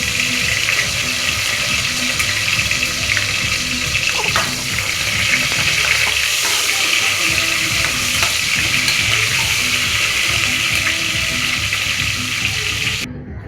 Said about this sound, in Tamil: நம்ம கட் பண்ணி போட்டு பெரிய வெங்காயம் சேர்த்துக்கலாம். அதை நல்லா பொன்னிறமாக வதங்கட்டும்.